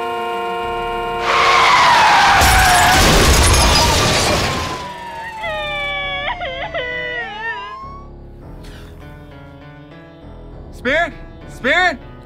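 A truck skids and crashes in a loud burst of roaring, grinding noise lasting about three seconds, followed by quieter sliding whistle-like tones and a few short sharp bursts.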